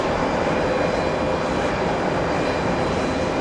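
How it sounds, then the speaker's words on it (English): An Aer Lingus Airbus A321neo jet departing JFK on takeoff, a steady broad engine roar heard from a distance, constant and unbroken with no voices. "Heading to Manchester in England, an A321neo."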